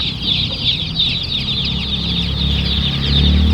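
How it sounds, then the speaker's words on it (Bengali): Many chicks peep at once at a poultry market in Raghunathpur, Gobardanga, where chicks and ducklings are sold. The high chirps are loud, close and unbroken, with no voices. "মুরগির বাচ্চা। আওয়াজ শুনুন"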